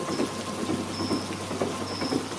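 Steady rain falls on a surface in a Hindi horror story, a continuous close hiss with soft patters and a faint low rumble beneath, no voices.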